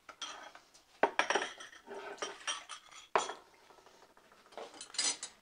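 Dishes and cutlery being loaded into a dishwasher, nearby clinks and clatters of plates and metal utensils set down in uneven bursts, with a few sharp knocks and short pauses between them.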